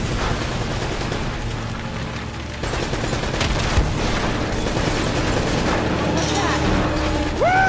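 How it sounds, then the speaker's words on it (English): Rocket launcher fire and explosions in the Uncharted video game: dense, continuous gunfire and booming blasts throughout, loud and close, with excited voices talking over the action. "Now he's got some kind of rocket launcher."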